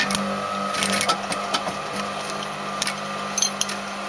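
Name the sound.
sewing machine stitching a lapped zip seam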